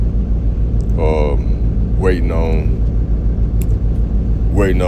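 A parked truck's engine rumbles steadily in the background throughout, a low continuous drone under a voice speaking close by.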